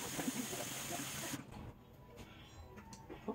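A Lysol disinfectant spray can releases a loud, close, steady hiss for about a second and a half, then cuts off, leaving a quiet room.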